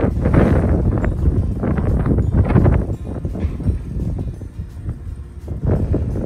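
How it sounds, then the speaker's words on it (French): Strong gusty wind battering the microphone beside an Atlas X 750-watt vertical-axis wind turbine outdoors, loud rumbling buffeting that rises and falls continuously. "Regardez le vent qu'il y a."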